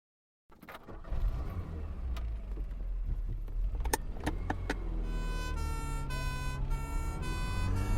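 Ambulance driving along a city avenue with its siren wailing, the rising and falling tone steady and fairly close over continuous road noise and engine rumble.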